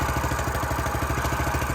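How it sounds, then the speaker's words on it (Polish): Petrol engine of a Weima WM50 rotary tiller running after a cold start with the choke just switched off, a steady close, continuous putter and clatter at idle with no voices. "Uruchamiamy. Wyłączamy ssanie. Silnik zacznie równo pracować."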